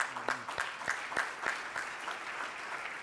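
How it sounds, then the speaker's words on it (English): Mayors attending a city livability luncheon at an annual meeting clap as a group, a steady dense round of applause with a few sharp individual claps standing out over the general sound. "Give yourselves a big round of applause."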